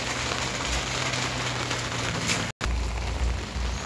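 Steady rain falls hard and close on a surface, a dense, even hiss with a momentary cut partway through.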